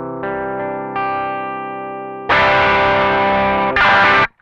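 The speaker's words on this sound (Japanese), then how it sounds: "ミニマムな状態でも結構歪んでくれる印象です" Electric guitar through an Ibanez Nu Tube Screamer overdrive pedal: a sustained overdriven chord rings out, followed by two loud, gritty strummed chords, played solo with no talk.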